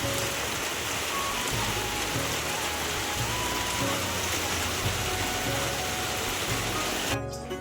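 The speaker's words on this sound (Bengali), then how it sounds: "এখনো পর্যন্ত এই দেখো বৃষ্টি হচ্ছে।" Steady, heavy rain falls outside a home on a rainy day, a dense continuous hiss that stays even throughout and cuts off abruptly at the end.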